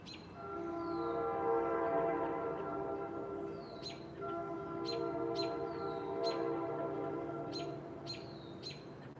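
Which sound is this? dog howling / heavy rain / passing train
passing train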